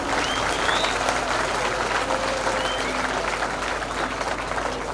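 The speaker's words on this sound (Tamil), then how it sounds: "அப்படிங்குள்ள இந்த பாவப்பட்ட ஜென்மங்களுக்கு நல்ல ஒரு கைத்தட்டல் கொடுங்க அவங்களுக்கு." Sustained audience applause fills a college annual day function, steady and dense throughout with faint voices mixed in.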